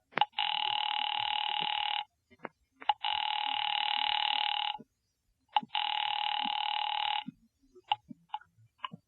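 An old-style telephone bell rings three times in long electric bursts with gaps between them, close and clear, followed by faint clicks and handling noise as a radio drama plays out.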